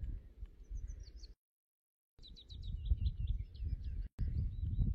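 Small birds sing with high, thin chirps and short trills by a wilderness lake in Finland, fairly faint over a low outdoor rumble, broken by a brief gap of silence midway.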